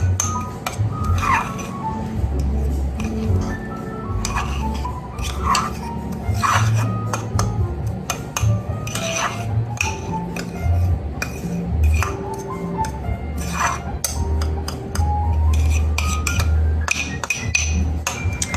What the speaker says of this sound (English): For the topping, a little butter knife here. Continue just mixing it a little bit more.